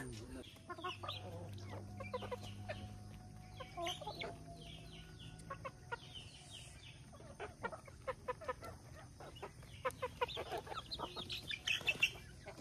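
Free-range village chickens cluck in short, scattered bursts, fairly quiet and close, growing busier toward the end over a faint background rustle.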